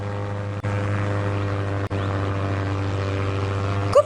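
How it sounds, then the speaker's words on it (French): Engine of a 1909 model airplane: a steady, droning propeller hum with a low fundamental and even harmonics, constant and moderately loud, with two brief dropouts and no talk. "C'est un avion, dernier modèle 1909."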